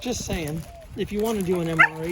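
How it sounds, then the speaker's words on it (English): Dogs horse around close by with yips, whimpers and short barks as someone talks over them indoors. "There are my dogs horsing around like always."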